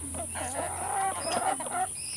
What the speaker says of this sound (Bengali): এ দেখেন ফার্মে মুরগি প্রচণ্ড খাওয়া খাইছে